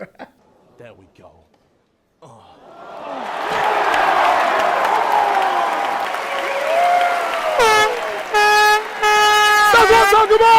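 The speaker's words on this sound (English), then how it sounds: "he had an air horn" Several loud air horn blasts sound at a crowded event, a long droning swell followed by sharp, stuttering toots near the end, over cheering and applause.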